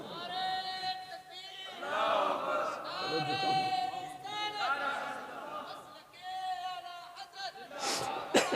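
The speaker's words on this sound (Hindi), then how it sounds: "नारा लगाओ, कोई नारा लगाओ, जल्दी करो।" A crowd at a Hindi-language religious speech gathering chants slogans together, with sustained, overlapping voices rising and falling in several loud waves and a brief lull near the end.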